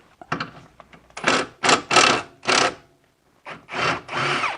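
A wrench working loose a 13 mm bolt on the front lower control arm of a BMW E46, heard as several close, loud grinding ratchet bursts separated by short pauses, with no speech.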